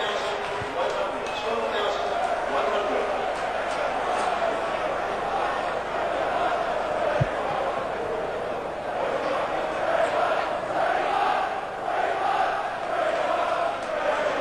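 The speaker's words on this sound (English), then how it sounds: "it's got the crowd here singing once again" Football crowd at Brentford's 1989 match against Manchester City, a dense, steady roar of voices swelling in waves across the stands, sustained throughout with no clear break.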